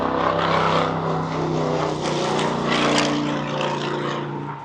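A steady, loud roar of traffic rolls in from a major highway right beside a mountain home's back porch, a continuous broadband rumble with slight swells as vehicles pass, no voices.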